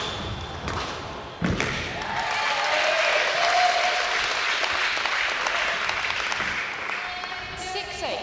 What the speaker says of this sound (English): Great Britain supporters, trying to get behind Lily there, give her a bit of a cheer and get her going a bit